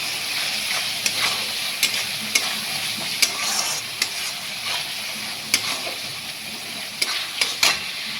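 Crab kosha fries in a pan with turmeric and Kashmiri chilli, a steady soft sizzle broken by sharp scraping clicks of a spoon stirring at irregular intervals, close and moderately quiet with no talking.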